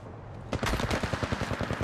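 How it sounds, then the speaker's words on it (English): Rapid automatic gunfire from the Apex Legends Mobile video game starts after a short pause and continues as a dense, loud burst of closely spaced shots until the end. "Opening fire."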